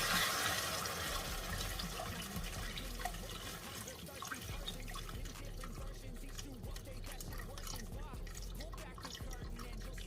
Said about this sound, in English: I'm going to be adding water into it